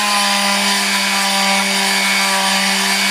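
Steady, loud electric whine of a palm sander sanding an aluminum wheel, buzzing continuously with a constant hum and a gritty scraping texture underneath.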